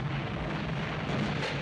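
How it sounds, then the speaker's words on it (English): A big explosion in a 1959 film rumbles and roars, loud and steady, with no clear start or end, like a deep blast filling the whole short moment. "That noise, that big explosion."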